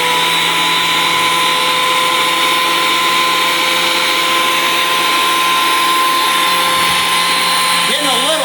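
DeWalt DW734 benchtop thickness planer feeding a chainsaw-milled oak board, a loud steady motor whine that holds unchanged throughout, with someone talking over it.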